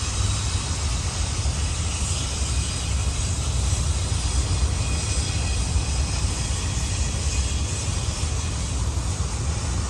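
A BNSF freight train rolls steadily past near San Pedro, a continuous broadband rumble and rail roar holding at an even, loud level throughout with no voices.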